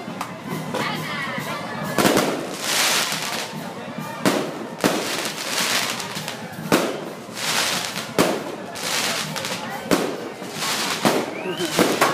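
Repeated fireworks bursts crackle and boom every couple of seconds at a town fiesta in San Rafael, Pampanga, with a crowd murmuring and voices chattering throughout.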